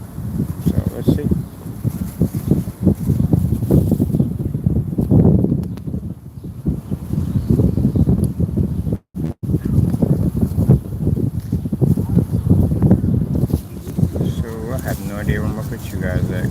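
Wind buffets a microphone during an outdoor walk on a windy day, a steady low rumble running under continuous talk for most of the stretch.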